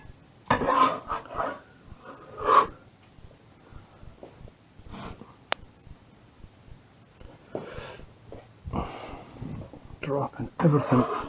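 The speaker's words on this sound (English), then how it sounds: "Dropping everything on the floor today." Kitchen utensils and pans clatter onto a floor while making sausage and mash with onion gravy, several sharp bangs and rattles scattered among speech and snorting sounds, fairly close.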